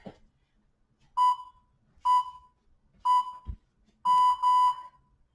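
A workout interval timer sounds four loud, clear electronic beeps about a second apart, the last one longer, with faint room noise between them.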